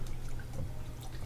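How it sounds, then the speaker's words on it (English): Three cups of water poured into a pot of cooked flour and onions for cream of corn soup, a soft, continuous pour and trickle, faint and close, with no talk. "now we're going to take our 3 cups of water and add that in"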